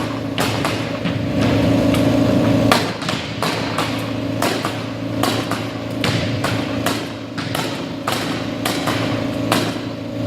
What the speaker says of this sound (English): we can focus on the other side of the floor again where this hardwood still needs to be nailed